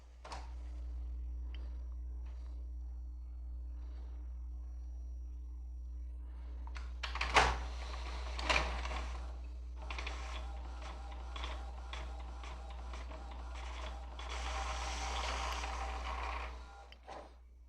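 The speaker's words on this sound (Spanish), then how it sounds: "Ahora vamos a imprimir lo que es un test de inyectores" An inkjet printer runs a nozzle test page after its ink nozzles were unclogged: a quiet whirr builds into a clatter of carriage passes and paper-feed clunks, with rhythmic mechanical bursts over a steady low hum, no voices.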